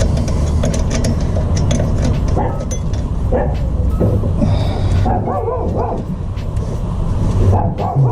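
A small dog barks and yips repeatedly amid a noisy, busy background with steady rumble.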